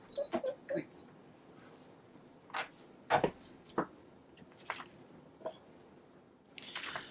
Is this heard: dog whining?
yes